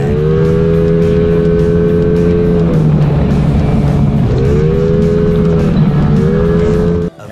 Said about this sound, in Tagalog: ito yung takbo nung bago tayo magpalit ng pipe